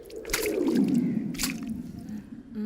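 Water poured from a bottle splashes and squelches as someone washes up outdoors, a wet sloshing with two sharper splashes, moderately loud and close, with no voices.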